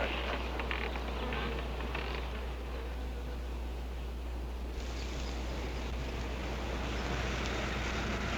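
Wasps buzz in a steady, dense drone from a 1959 sci-fi horror film soundtrack, continuous and fairly loud across the whole stretch, with no talk.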